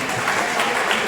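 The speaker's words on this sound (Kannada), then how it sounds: "ಎರಡನೇದು ಲೈಬ್ರರಿ ಸರ್ಗೆ ಒಂದು ಜೋರಾದ ಚಪ್ಪಾಳೆ" Loud applause for the library staff at a first-year student orientation programme, a brief burst of dense clapping from the gathered audience.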